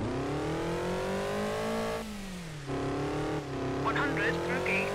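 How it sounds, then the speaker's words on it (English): A rally car in the Mobil 1 Rally Championship PC game, its engine droning loud and steady, dipping briefly as the revs fall and climb again during a handbrake turn, with a short tire squeal near the end and a voice talking over it. "So, this is my handbrake."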